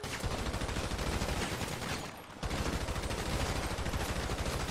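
Rapid sustained gunfire rattles in a GTA 5 Online deathmatch, dense continuous shots with a brief lull midway before the firing resumes.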